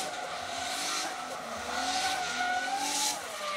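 A drift car makes a celebratory run after a third-place podium in the Pro 2 class final round of the Indonesian Drift Series, with sustained tire squeal and a skidding engine drone heard from a distance.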